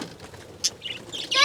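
Small birds, part of a flock of about forty, flutter their wings as they are released from a car, with brief close bursts of flapping and faint chirps, busiest at the end.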